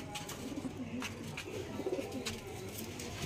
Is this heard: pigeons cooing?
yes